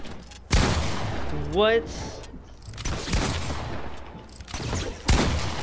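Gunfire in an online shooter video game, with a few sharp, loud broadband bursts spaced across the moment and a voice speaking briefly between them.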